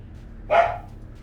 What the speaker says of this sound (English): it's a noisy puppy